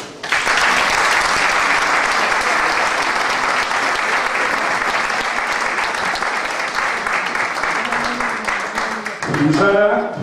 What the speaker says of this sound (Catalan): Demanaria un fort aplaudiment per ells.